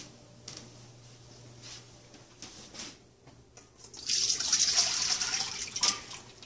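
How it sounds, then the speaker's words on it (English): Quiet handling noises, then water pours out of a pot of potatoes into a colander in a steady rushing stream for a couple of seconds, close and fairly loud. "you want to drain the water out of the potatoes"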